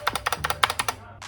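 Rapid clicky presses of the shift key on a Skyloong SK61 keyboard fitted with Gateron optical yellow switches, about ten close sharp taps in an even run, then a brief gap and one last press.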